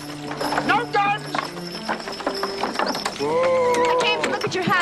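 Horses clip-clopping along a rough road, hooves knocking in an uneven rhythm close by, with a neigh and people talking over them.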